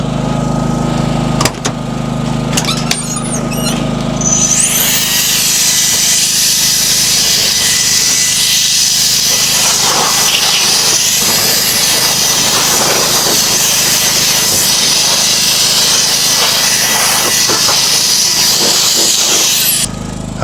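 WolfBox MF400 portable air blower blowing debris out of the back of a truck, a loud steady high whine that spins up after a few seconds and holds, with a generator droning underneath.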